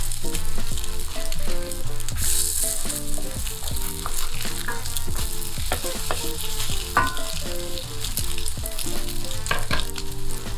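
Food crisps in butter in a hot pan for an English breakfast, a loud, close, continuous sizzle with frequent crackling pops and occasional clinks of a utensil, with no voices.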